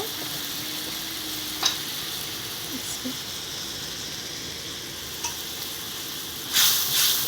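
Garam masala hits a hot pan and fries with a steady, close sizzle, broken by a few light clinks and scrapes from stirring and a louder hiss flaring near the end.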